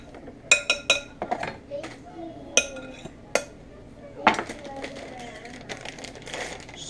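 A utensil scrapes and clinks against a bowl as buffalo chicken dip is stirred, with a cluster of bright metallic taps early and softer scraping after, close by over a low room hum.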